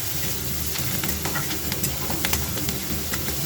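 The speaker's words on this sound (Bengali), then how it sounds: "দেখো পেঁয়াজ কলি আলু ভাজাটা বসিয়ে দিয়েছি" Steady sizzle of potato and onion stalks frying, with occasional soft stirring scrapes and crackles, continuous and close throughout.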